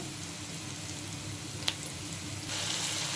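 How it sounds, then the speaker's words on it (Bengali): Onions frying in a pan for a fish do-pyaza, a faint, steady sizzling hiss that holds evenly throughout and grows slightly louder near the end, with no voices over it. "পেঁয়াজগুলো আমি ভেজে নিচ্ছি"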